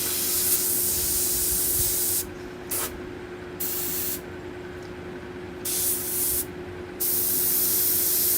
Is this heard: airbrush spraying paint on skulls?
yes